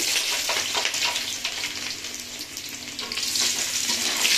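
Chopped garlic frying in hot oil in a pan, a continuous bright sizzle with scraping stir strokes and occasional swells as the pieces are moved around, close and with no talk.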